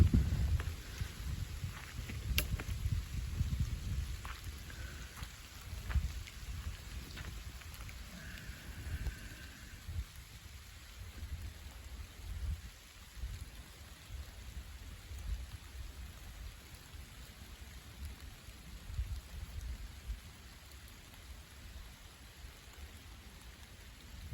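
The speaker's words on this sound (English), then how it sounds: "Just listening to the sound of the rain in the woods." Steady rain falls through Midwestern woods at Allerton Park, a soft, continuous patter with heavier drips near the start, then easing to an even wash.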